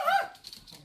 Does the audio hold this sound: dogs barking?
yes